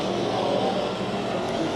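Race car with a bent-up exhaust roaring past at a raceway heat race, a loud, steady engine drone that holds throughout with no talk over it.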